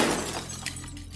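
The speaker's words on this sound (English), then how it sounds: "I heard a loud bang followed by my rear windshield shattering." A car's rear windshield shatters in an animated horror story: a loud burst of breaking glass that starts at full force, followed by a dense, crackling wash of falling shards that slowly fades.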